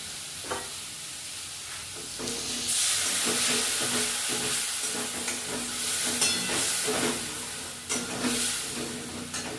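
Masala with chopped tomato and salt frying in a pan for paneer biryani, a steady close sizzle with hissing steam and repeated scraping stirs.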